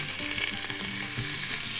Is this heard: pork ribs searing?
yes